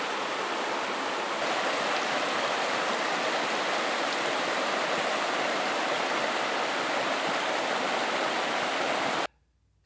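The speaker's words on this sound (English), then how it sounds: "all I'm going to do is just dip it into the water so that the flask" River water rushes and flows steadily at close range as a flask is dipped into the stream, a continuous broadband wash that holds for nearly ten seconds and then cuts off abruptly.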